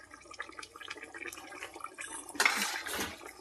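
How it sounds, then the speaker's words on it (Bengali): Cauliflower, potato and egg curry is poured from a cooking pot into a serving bowl: light clinks and scrapes of metal cookware, then a brief, louder wet splash and clatter near the end, close by with no talk. "একটা পাত্রের মধ্যে ঢেলে নিচ্ছি।"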